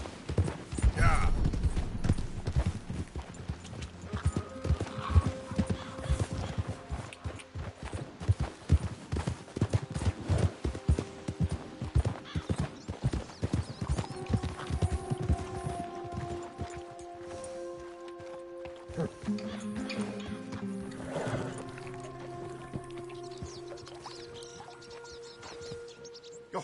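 Horse hooves clip-clop rapidly and loudly through a video game scene, a steady galloping rhythm that thins out midway, with voices talking over it and tonal game music or sounds near the end.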